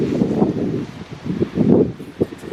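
Gusty wind on a breezy day outside the front of a house: irregular low buffeting rushes hit the microphone in several uneven surges, loud and close, with no talk.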